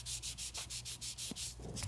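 Sanding block rubbed lightly over lacquer on a guitar headstock, about ten quick, even back-and-forth strokes, each a close, hissing scrape with brief gaps between, no talk.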